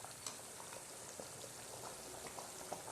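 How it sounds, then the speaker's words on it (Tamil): Tomato kulambu with ground coconut simmering in a pot, giving a steady low bubbling and soft popping that stays even and fairly faint throughout, with no voices. "நன்றாக கொதிக்க விடுங்க."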